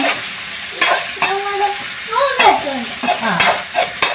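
Close, loud sizzle of garlic and green chili frying, with spatula scrapes and stirring knocks; a faint voice sounds briefly in the middle.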